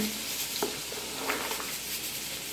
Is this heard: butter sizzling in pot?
yes